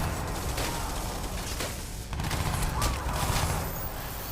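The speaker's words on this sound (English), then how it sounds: "They actually use their rocket launcher now," Enemy rocket launcher fire in Crysis 2 Remastered, a dense run of loud, sharp blasts and bursts close by, mixed with continuous combat noise and a brief lull near the middle.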